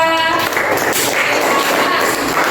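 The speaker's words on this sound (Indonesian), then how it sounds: "Berikan tepuk tangan untuk Nara" A classroom of students clapping for a classmate, a dense, loud burst of many hands applauding steadily throughout.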